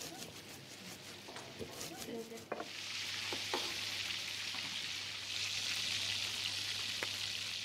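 Whole spices toasting in a hot pan for a Mauritian dish, a steady sizzle that turns louder and brighter partway through, with occasional clinks of stirring and a low hum underneath.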